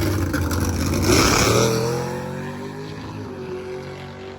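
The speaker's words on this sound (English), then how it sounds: "Gasser having issues off the line, costing the race." A gasser hot rod leaves the line at a drag race and struggles off the start. Its loud engine revs climb and then slowly fall away as it pulls off, with no voices over it.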